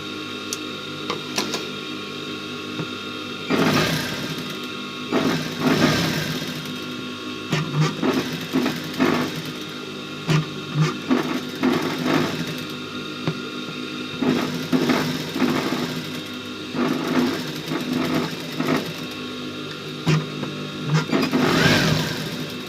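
A sewing machine stitches the pocket onto a jeans shirt, with repeated mechanical bursts of whirring needle action separated by short pauses, running steadily and fairly close throughout.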